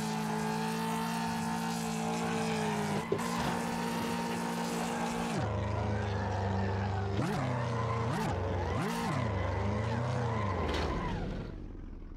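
Car driving in traffic mode in the racing game Assetto Corsa, with a loud continuous engine drone whose pitch holds, drops and then swoops up and down repeatedly, with sharp skidding squeals near the end, no talk.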